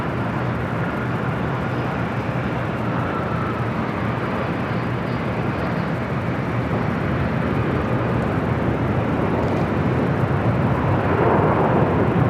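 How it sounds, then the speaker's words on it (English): A Delta Boeing 767 pushes back from Terminal 2 at Los Angeles International Airport, a loud, constant airport rumble of engines and ground equipment lasting over twelve seconds with no talk. "Another Delta 767 now pushing back from Terminal 2."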